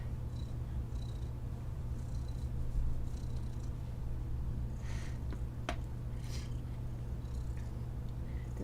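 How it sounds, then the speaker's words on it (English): A cat purrs continuously close up, a low steady rumble lasting the whole stretch with faint clicks and rustles above it. "I can't believe you can hear him purring."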